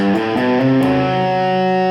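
Several electric guitar notes ring over each other at once, tapped tones bleeding together into a cluttered, chord-like smear, slightly distorted and steady.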